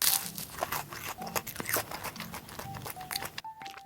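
Bites and chews into a Tico salt bread, giving crisp crunches close to the mic, irregular and fairly quiet, with faint background sounds.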